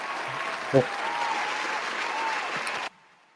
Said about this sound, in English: round of applause to the episode